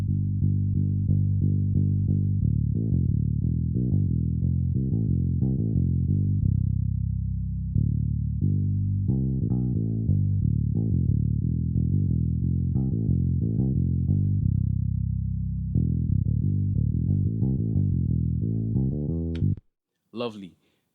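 Solo bass guitar given high-frequency saturation by the Revival plugin, playing a steady, loud melodic line of sustained low notes, then a brief click and a short noise burst at the very end.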